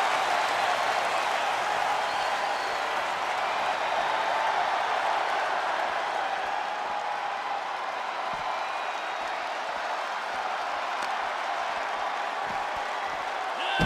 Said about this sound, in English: What a raucous crowd here tonight.